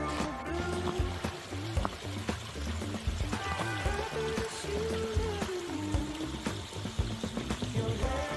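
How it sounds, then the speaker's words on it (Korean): A mountain stream in a winter valley flows and trickles steadily nearby, a continuous splashing wash with a tonal hum or music faintly woven through it. "조금 물소리 좋네요."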